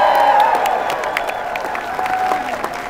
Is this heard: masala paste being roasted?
no